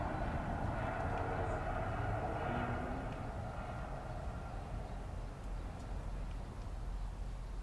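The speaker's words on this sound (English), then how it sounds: "let's watch our train go across the junction just up here." A train on the Birmingham Cross City Line rolls toward a railway junction, a steady low rumble and droning motion noise with faint rattles, continuous and unvoiced.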